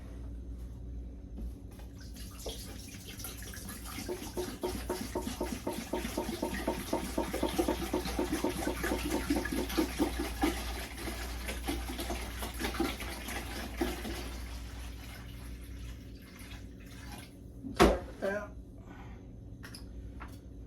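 Tap water running into a pot for peeling potatoes, a steady splashing stream that builds and then tapers off, with a person talking over it and a brief clunk near the end.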